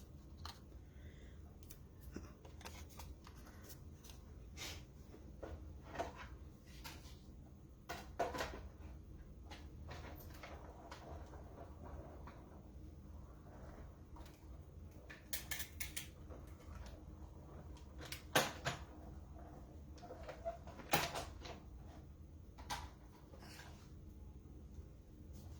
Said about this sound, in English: So we will run that through the cut and emboss machine.